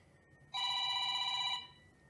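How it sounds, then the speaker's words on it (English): A phone rings once, a bright steady electronic ringtone lasting about a second against a quiet room, then fades out. "oh, this is my husband's phone."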